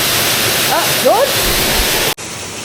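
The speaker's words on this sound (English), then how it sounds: "That's running off the lake and now goes into the water gardens" Water runs off a lake into water gardens in a steady loud rushing wash like a small waterfall, with faint bird calls over it before the sound cuts abruptly.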